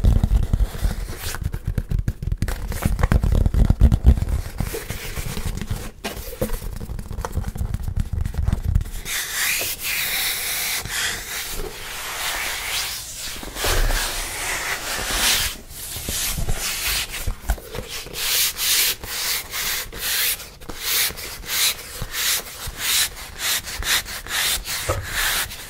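ASMR scratching and rubbing on a box, a close, loud, continuous rasping with rhythmic strokes that shift from heavy low scraping to brighter, sharper scratches, with no talking.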